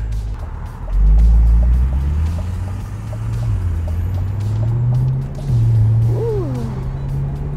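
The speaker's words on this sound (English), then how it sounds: "slow off the brake and so it'll start moving forward for you. Let's go for a drive." Car with an eight-speed automatic transmission driving, a steady low engine hum with smooth rising and falling tones as it shifts, and road noise throughout.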